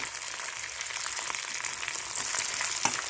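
Green chillies frying slowly in an old cast-iron pan, about 30 years old, giving a steady soft sizzle with faint crackles, heard close and alone without any talk.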